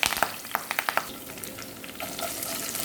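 Cloves, cinnamon and cardamom with green chilies and curry leaves frying in peanut oil for spicy chicken curry, a loud close crackling sizzle with sharp pops and spoon stirring at the start, settling into steady hiss.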